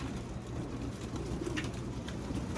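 Racing pigeons cooing softly while being basketed for a one-loft race, a low murmuring coo from several birds, close but faint, over steady background noise.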